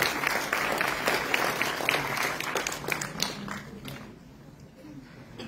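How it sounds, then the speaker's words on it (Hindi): Audience applause welcoming an honoree receiving an award from the Lieutenant Governor at a ceremony; steady, dense clapping from a crowd that fills most of the clip and then thins out and fades toward the end. "जोरदार तालियों से स्वागत करें।"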